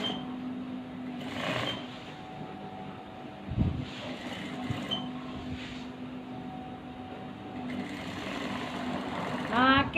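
Sewing machine stitching a small seam along a garment neckline, a quiet continuous motor whir with faint needle clatter throughout, someone speaking over it at times.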